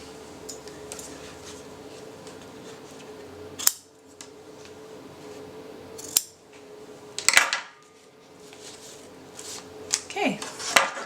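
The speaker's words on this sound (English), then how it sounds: "And then cut the end off." Scissors snipping off the end of a tied string on a handmade scalloped pocket mini album, a few sharp separate cuts spaced seconds apart over a quiet room hum, with a voice briefly speaking.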